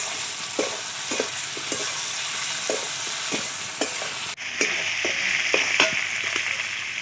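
Chicken curry with salt is stirred in a pan in a village-style kitchen, a spoon scraping in repeated strokes against a low sizzle, with a brief clatter partway through.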